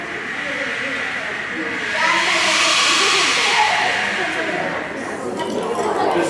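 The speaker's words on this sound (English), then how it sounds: "people make whistles out of metal, and they call this a wind whistle." A metal wind whistle gives a loud, steady airy hiss with a breathy tonal band that swells midway and holds for several seconds, close and continuous, with no talking over it.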